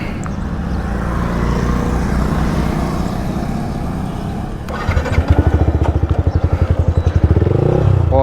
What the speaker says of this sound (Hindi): और एग्जॉस्ट आपको मैं एक बार सुना देता हूँ